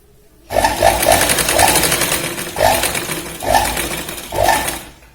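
Sewing machine stitching the neck strip of a boat-neck kurti, starting abruptly with a steady mechanical whir and needle clatter, pulsing in short surges over several seconds, close and loud with no talk.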